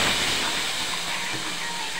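Lentils dropped into hot oil in a pan and fried, giving a continuous loud, even hiss that holds steady throughout with no talk over it.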